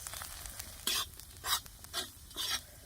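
Stone-ground spice paste being stirred and turned in a frying pan, four or five distinct scraping strokes of a spoon over a low sizzle, close by with no voices.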